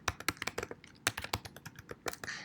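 Quick, irregular clicks of fingers typing on a computer keyboard, close and fairly quiet, with bursts of keystrokes and short pauses between them.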